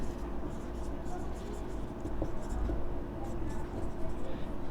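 Marker or chalk writing on a classroom board during a C++ lesson, a steady scratchy texture running under a low constant hum with a few faint taps.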